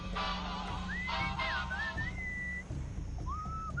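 A clear whistled melody in the video game Sam & Max: Beyond Time and Space rises and glides through sustained notes, with a brief burst of tonal background sound near the start.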